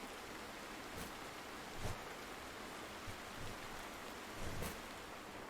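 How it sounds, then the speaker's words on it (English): Steady rain falling, a constant broadband hiss with a few slightly louder gusts or drop bursts, heard alone without any talking. "Some people find the sound of rain really relaxing."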